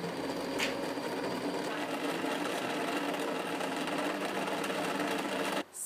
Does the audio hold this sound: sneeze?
no